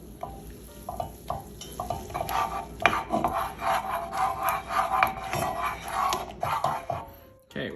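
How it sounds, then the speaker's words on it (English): Butter melting with olive oil in a pan for salmon Wellington, a soft sizzle broken by scraping and stirring from a utensil, close and fairly steady with brief gaps. "Let's melt our butter first."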